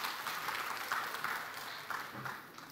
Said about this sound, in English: Can I have a round of applause for the man who did that at that point in time?